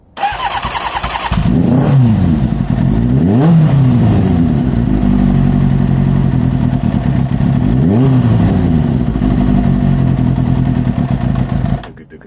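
A Kawasaki ZX6-R motorcycle engine running rich fires up and idles loud and close, with several sharp revs rising and falling before it cuts off near the end.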